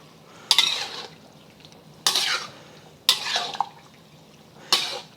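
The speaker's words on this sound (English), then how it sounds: "adding my tofu. And we're just gonna gently fold this in" Cubes of tofu are folded gently into chicken broth sauce in a pan, making four soft, wet scraping stirs spaced about a second apart, each a brief sloshing swish against a quiet kitchen background with no talking.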